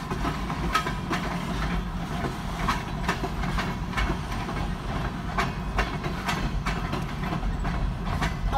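A long freight train rolls past at steady, close range with a continuous rumble and repeated wheel clicks over rail joints, an RJ Corman locomotive among the consist.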